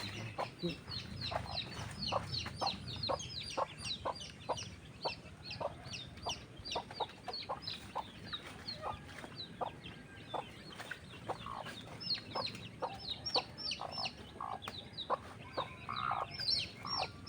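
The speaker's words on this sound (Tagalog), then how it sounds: "Nahuli ko na yung sisiw na maliliit." Farmyard chickens cluck in a fast, steady series of sharp calls while small chicks are being caught, close and clear over a low background hum, with scattered higher peeps toward the end.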